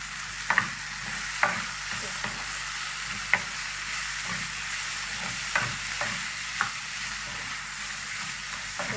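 Tomato sauce and chopped tomatoes fry in a pan, a steady soft sizzle running throughout while a utensil stirs and taps against the pan in scattered sharp clicks.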